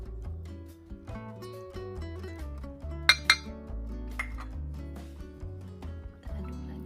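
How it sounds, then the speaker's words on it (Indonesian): A spoon stirs muffin batter with oil in a bowl, tapping and clinking against the sides in an irregular rhythm, with a couple of sharper knocks. "Kita aduk lagi sampai tercampur rata."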